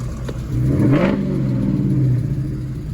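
Nearby at a car show, a car engine revs up once with a rising roar, then holds a rough, steady rumble.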